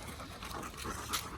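A German hunting dog pants steadily with quick, breathy huffs on a hot summer day, close but soft, over a faint hiss of background noise; nobody speaks.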